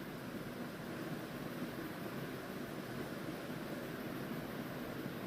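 Green chillies fry in hot oil for mirchi bajji, giving a steady, soft sizzling hiss that runs evenly throughout with no voices.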